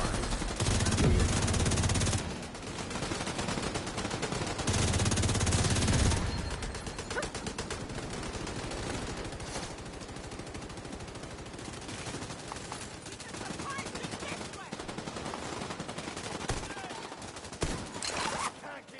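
Sustained automatic gunfire in the shooter video game The Division 2, dense rapid bursts close and loud with heavy low-end thumps early on, thinning into scattered rattling shots toward the end.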